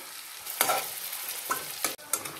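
Potatoes being stirred in a pan with cumin paste, Kashmiri chili powder and turmeric for a vegetarian Kashmiri aloo dum, with several scraping strokes over a soft sizzle and no talk.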